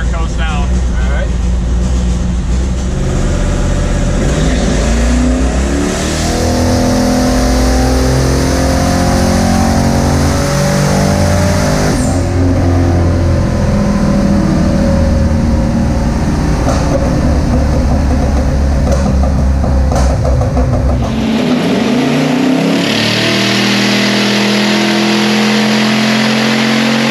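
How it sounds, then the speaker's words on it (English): A twin-turbo Hemi engine pulls hard at wide open throttle up to about 130, then lifts and coasts down, a loud, continuous roar with shifting tones throughout and a sharp drop in level near the end. "just go to wide open throttle on this one"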